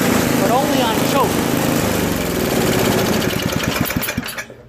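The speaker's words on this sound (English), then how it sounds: "It only runs on choke, so just needs a carb clean." An old Toro 521 two-stage snowblower with a Tecumseh engine runs only on choke, loud and close, its uneven engine chatter wavering, then slowing into spaced putters before it cuts out, with a voice heard early on.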